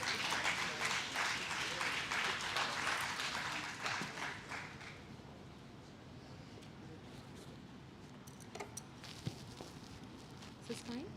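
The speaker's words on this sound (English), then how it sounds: "may I request all of you to welcome him to the stage with a huge round of applause" Conference audience applauding a speaker onto the stage, a burst of clapping that fades after about five seconds into quiet room noise with scattered faint sounds.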